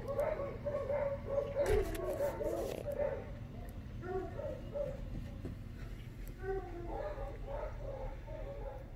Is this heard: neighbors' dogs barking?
yes